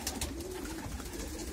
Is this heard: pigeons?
yes